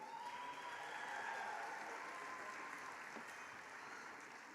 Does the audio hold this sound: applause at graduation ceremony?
yes